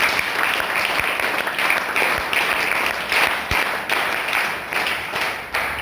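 A college audience claps loudly to welcome the principal at a careers event, a dense continuous round of applause with a few sharper claps standing out near the front.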